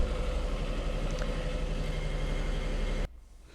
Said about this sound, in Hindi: यहाँ पर बहुत सारा मतलब गाड़ी चलते रहते हैं तो उसका आवाज़ आ जाता है कई बार